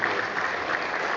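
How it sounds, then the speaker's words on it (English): Students at a university faculty lecture receive a steady burst of audience applause, dense and even throughout with no pauses. "applause."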